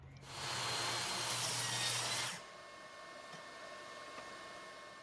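A table saw blade set at 45 degrees rips through wood for about two seconds, a loud buzzing cut that drops off into the lower whir of the machine spinning down.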